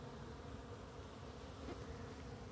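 Bees buzzing in a steady, dense drone that stays level throughout, with no voices and no clear breaks.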